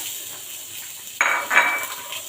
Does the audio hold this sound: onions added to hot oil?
yes